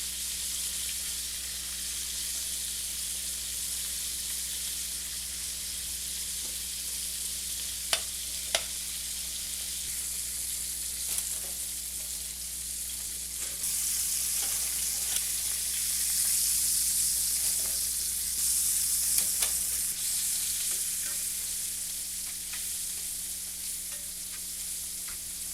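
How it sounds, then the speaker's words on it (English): Flour-coated chicken wings fry in a pan in a home kitchen, giving a steady, close sizzle and crackle that runs throughout and swells louder in the middle, with a few faint clinks over it. "Now the chicken wings are going into the flour mix and into the frying pan."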